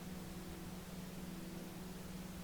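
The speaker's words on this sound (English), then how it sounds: "allow the pink noise you're hearing to begin creating a sanctuary of sound" A continuous wash of pink noise plays alone at an unchanging, gentle level, with a slight low hum running under the hiss and no talking.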